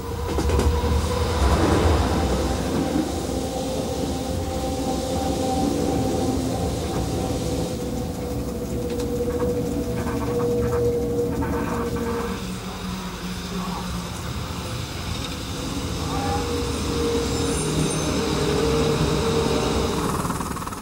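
A train rumbles steadily through a tunnel under Arosa on the Arosa Line for the whole stretch, wheels clattering and droning with an enclosed, echoing tone.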